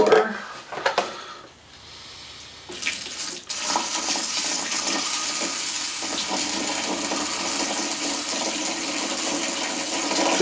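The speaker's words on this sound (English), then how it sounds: "Now what I'm going to do is I'm going to add a little bit" Water pours and splashes into a small nano aquarium over soil substrate, starting with a few sloshing bursts and then running as a steady, close, continuous trickle.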